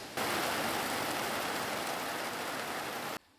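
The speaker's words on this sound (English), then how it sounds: "The sun is out, but it's pouring rain." Heavy rain pours down in a dense, steady hiss that starts abruptly and cuts off after about three seconds.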